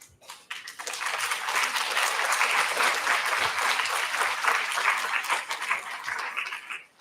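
An audience at a college induction program bursts into applause for soldiers, the clapping rising quickly from quiet, holding full and dense for several seconds, then tapering off at the end.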